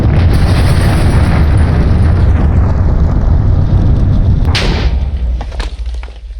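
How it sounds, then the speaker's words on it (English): A missile explodes in Minecraft with the Voltz mod, a loud, booming blast that rumbles on for several seconds before fading. "This is basically a missile that will blow back anything it hits."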